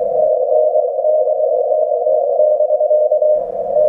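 Morse code sent over amateur radio during a remote POTA hunt is heard as one loud, steady single-pitch tone held almost unbroken, with no spoken voices.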